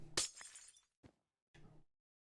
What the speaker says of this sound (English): I hate things that make the glass breaking sound